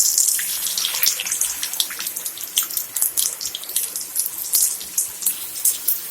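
Marinated chicken hits melted butter in a pan and sizzles with crisp, irregular crackles and pops, close and fairly loud, with no talking.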